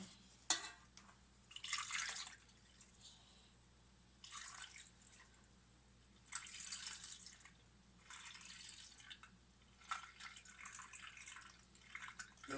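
Water is poured into a bottle while pickling vegetables, heard as several faint, short splashing bursts separated by quiet gaps.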